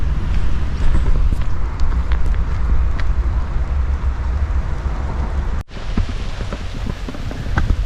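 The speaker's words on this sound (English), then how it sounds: "It's literally just started to rain." Rain just beginning to fall on a street in Pigneto, Rome, a dense steady hiss of drops close by with scattered patters and a low rumble of traffic underneath.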